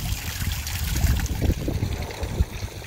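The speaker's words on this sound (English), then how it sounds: "the sound of the water is very soothing" Water trickles from a concrete garden fountain sculpture in a backyard, a close, steady gurgling splash with low burbling pulses and no voices.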